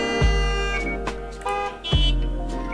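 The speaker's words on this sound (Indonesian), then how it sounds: "Itu apalah klakson-klakson mulu ya." Car horns honking repeatedly in the Gas Station Simulator video game, several loud toots and longer blasts in quick succession over a low engine drone, with no speech.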